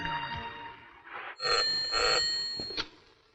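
A telephone bell rings in bursts, a bright metallic trill repeating two or three times in a quiet room in a Hindi film scene, fairly close and loud.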